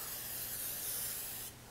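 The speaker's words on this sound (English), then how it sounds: "we're just gonna spray the inside" Cooking spray hisses from a can into the inside of muffin tins, one steady close spray for over a second before it cuts off.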